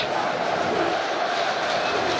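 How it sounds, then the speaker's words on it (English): A rugby stadium crowd at a 2013 ITM Cup match between Otago and Hawke's Bay roars in a steady, dense wash of cheering. A commentator's voice runs faintly under the noise. "this crowd is just riding every play"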